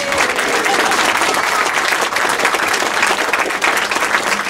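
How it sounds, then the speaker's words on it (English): Loud, sustained audience applause fills a reception at the Houses of Parliament, dense clapping without pause throughout. "yes, round of applause for Jack"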